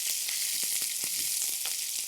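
Small onions sizzle steadily in a hot pan for sambar, a constant bright frying hiss broken by a few soft stirring taps, with no talk.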